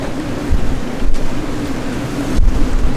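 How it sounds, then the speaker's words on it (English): Hurricane Nicole's waves crash against a seawall amid strong wind, a continuous roaring surf with two heavier thumping impacts and gusty microphone buffeting. "You see the waves hitting the seawall back there."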